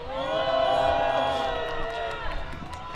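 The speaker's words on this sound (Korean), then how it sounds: "큰 박수로 맞이주십시오" Crowd cheering and clapping for a local resident called up to speak at an outdoor press conference and protest rally at Dong-A University in Busan, a steady loud wash of applause with whoops and voices mixed in throughout.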